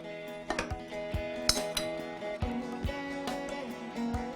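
Spoon stirring tempered spice tadka into cooked dal in a pan, with a string of close, light metallic clinks and taps against the pan sounding at an irregular pace.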